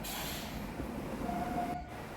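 Howrah–Mithila Express passing through a station, a steady broadband rumble and hiss of rolling coaches with a brief tonal squeal near the end, loud and close, no talk.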